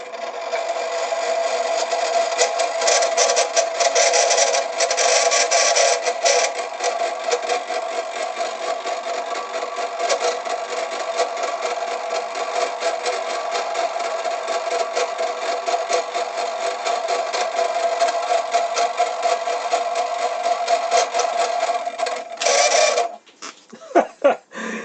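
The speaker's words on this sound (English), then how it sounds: "Pretty basic motor." The basic electric motor of a rock tumbler with no on/off switch hums and whirs steadily at close range, then cuts off with a few clunks at the end.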